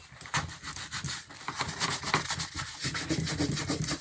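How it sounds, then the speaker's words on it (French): Fingernail scratching off adhesive scratch-off stickers on a card, a quick series of dry raspy rubbing strokes, close and fairly soft with no talking. "J'ai voulu gratter les pastilles autocollantes qu'il y avait dessus, les pastilles à gratter."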